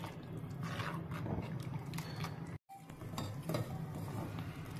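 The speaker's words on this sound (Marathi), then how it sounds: "पहा, आता आमटी उकळायला सुरुवात झालेली आहे." Moong dal amti lentil soup bubbling in a pot over the gas, a soft continuous simmer of bubbles and pops, close and fairly quiet, with a brief cut to silence partway through.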